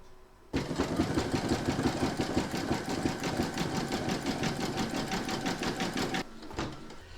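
An embroidery machine stitches the beard detail and hat trim of a large double-sided Santa applique in white thread, a steady rapid needle clatter running for about six seconds before stopping abruptly.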